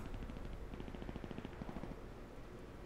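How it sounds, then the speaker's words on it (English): Distant gunfire in the battle royale video game Cuisine Royale, heard as a quick burst of rapid automatic shots in the middle, muffled and far off over a steady background hiss. "sounds like there's some gunfire going on in this direction"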